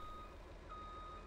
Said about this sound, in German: Rückwärtsfahrton